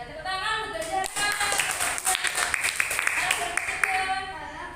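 Classroom applause for a Grade 4 student named Zara during an Indonesian-language lesson: a steady patter of many small hands clapping, fairly close and moderately loud, lasting the whole few seconds with uneven rhythm.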